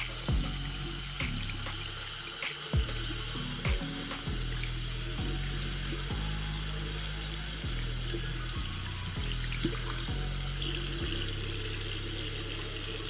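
A tap runs steadily to rinse ketchup off a shoe treated with DFNS footwear protector spray, with the water stream shifting in pitch as the shoe moves under it, near and continuous.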